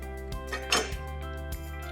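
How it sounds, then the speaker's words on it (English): A knife chops through a sweet yellow onion on a cutting board, with about four crisp, evenly spaced cuts and a brighter scraping stroke among them, set against a steady low hum. "We're going to start by cutting a nice sweet yellow onion."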